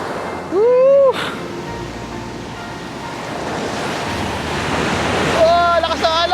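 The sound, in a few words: strong ocean waves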